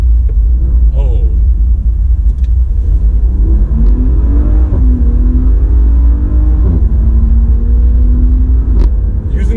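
A 2021 Maserati Levante's engine rumbles steadily while driving, with gears changed through the gear selector rather than paddles. Pitch climbs and drops through several shifts, loud and close inside the cabin.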